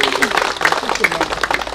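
An audience at a Korean poetry and essay reading claps in a lively, brisk rhythm while someone speaks loudly over the applause.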